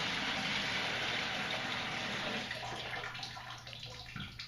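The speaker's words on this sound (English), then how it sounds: "Then you can just dump the water" Water being dumped from a filter housing into a bucket, a continuous close splashing pour that thins out and trails off toward the end.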